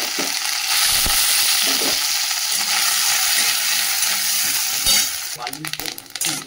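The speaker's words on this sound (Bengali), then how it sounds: "এই যে নারকেলটা দিয়ে দিই, নারকেলটাকে ভেজে তুলে নিই" Coconut fries in hot mustard oil with a loud, dense, close sizzle that holds steady, then breaks into clattering stirring and scraping toward the end.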